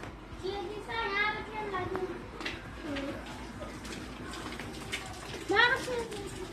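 Water runs from a tap at a house, a steady gushing flow heard under a person speaking, with pigeons cooing faintly in the background.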